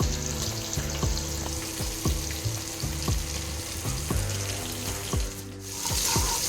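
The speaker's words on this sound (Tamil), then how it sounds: "இப்போ பூண்டு ஓரளவுக்கு வறுபடும்" Garlic sizzles and fries in a pan for a meatless Kongu-style biryani, a steady close crackle punctuated by regular scraping stirs of a spoon against the pan, with no talking.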